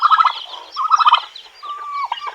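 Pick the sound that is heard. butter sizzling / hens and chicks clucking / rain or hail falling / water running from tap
hens and chicks clucking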